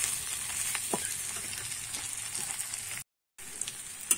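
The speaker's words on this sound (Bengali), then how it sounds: "গোটা জিরেটাও ভালো করে এর সঙ্গে ভেজে নেব" Whole cumin seeds frying in hot oil in a pan while cooking jackfruit with prawns, a steady soft crackling sizzle with a few sharper pops and a brief total silence near the end.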